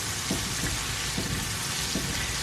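Butter melting and starting to brown in a pan for seafood mac and cheese, giving a steady, even sizzle and frying hiss with no voices.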